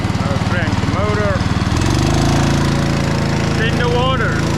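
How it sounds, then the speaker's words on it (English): A small boat motor cranks over with a rapid chugging pulse, then catches and settles into a steady, loud running drone close by, with brief voices heard over it. "I'll crank the motor"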